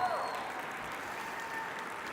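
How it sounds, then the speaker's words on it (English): An audience applauds a volunteer called up on stage at a talk, a steady wash of clapping heard from a distance that carries on evenly for a couple of seconds. "Give Chris a round of applause."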